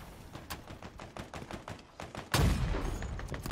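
Rapid bursts of gunfire in Halo Infinite, a run of sharp evenly spaced shots, then a heavier, louder blast-like burst that sustains to the end.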